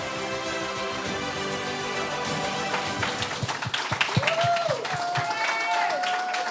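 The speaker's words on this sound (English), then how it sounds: "A rousing round of applause again for both our candidates, our shadow ministers for the Ministry of Education." Applause from an audience at a political launch event for shadow education ministers, dense clapping building over several seconds alongside music and voices.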